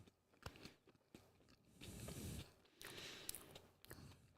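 A crunchy snack is eaten right against the microphone, with loud close bites and crisp crunching chews in bursts and short pauses, and no talking.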